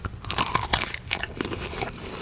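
Several crisp, close bites and crunches into a crunchy chocolate-ball pastry shaped like fruit, followed by chewing, with no talking over it.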